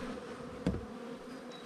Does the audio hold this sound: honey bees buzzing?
yes